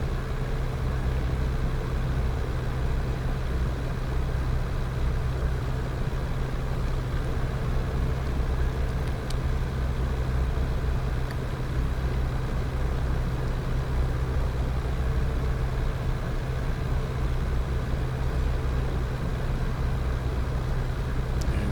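The right radial engine of a Douglas DC-3 idles steadily in X-Plane 12, a continuous low, throbbing drone with an even loudness throughout and no talking.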